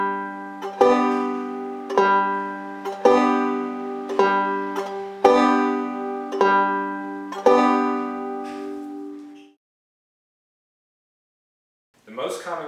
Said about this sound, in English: So the vamping pattern sounds like this.